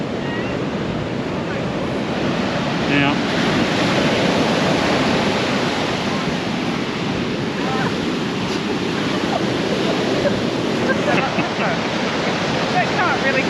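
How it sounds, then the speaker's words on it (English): Loud ocean surf breaking on a beach where cars can drive down onto the sand, a constant roaring wash of waves with wind buffeting the microphone throughout, and a voice briefly speaking at the start. "You might not hear me because their waves are incredibly loud at the moment."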